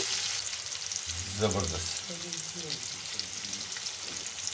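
Three medium onions frying in oil in a pan for arvi (taro) masala give a steady, close, hissing sizzle throughout, with one brief spoken word near the middle.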